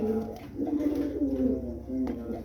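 Close pigeon cooing, including from a pure racer male, at a bird market in Jaipur: soft, throaty, repeated coos over a low murmur of background noise.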